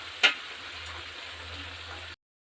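Curry leaves for poha chuda frying in hot oil, a steady close sizzle after a sharp initial crackle, cutting off abruptly.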